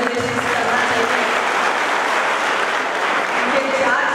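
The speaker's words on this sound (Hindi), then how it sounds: "सबसे पहले तहरीक से जबर भाई का हम लोग जोर से तालियां बजा के कांग्रेचुलेशन करना" Crowd applause at a minority convention in Belgaum, India, a loud, continuous roar of clapping close to the microphone that holds steady throughout.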